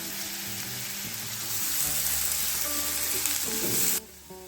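Chopped green chillies frying in a pan, with a close, steady sizzle and stirring, then an abrupt drop in volume near the end.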